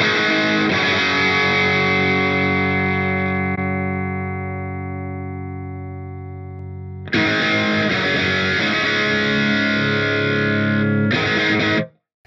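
A heavily distorted electric guitar through an Axe-Fx III with out-of-phase cabinets rings out and slowly decays, then hits again with a thin, hollow, phasey tone before cutting off abruptly.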